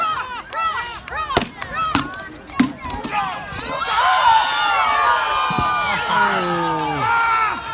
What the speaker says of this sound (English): cheer for that warrior